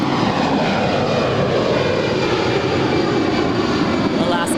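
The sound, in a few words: Alaska Airlines A320 departing airport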